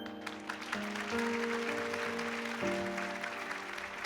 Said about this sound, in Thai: ขอเสียงเป็นกำลังใจนะครับ ให้น้องเบนคร ับ